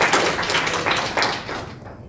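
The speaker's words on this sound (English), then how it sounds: "I believe that deserves a round of applause as well" Audience applause honoring a former middle and high school teacher, a dense crowd clapping that holds steady for about two seconds before easing slightly, with no voices over it.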